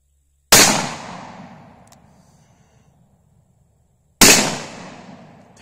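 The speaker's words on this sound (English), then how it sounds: "I'm going to try to shoot the Kevlar." Two loud revolver shots from a .45 Colt fired at Kevlar on an outdoor range, each a sharp crack with a long decaying echo, spaced several seconds apart.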